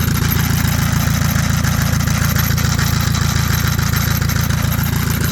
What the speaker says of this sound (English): I do hear a little bit of noise behind the timing cover.